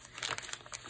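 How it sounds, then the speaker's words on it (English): Paper sheet being folded in half for an autumn junk journal cover: quiet, quick crinkling and rustling, close by and brief. "So what I'm gonna do is fold it in half"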